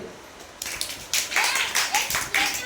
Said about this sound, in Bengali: জিতুর জন্য একটা জোরে হাততালি।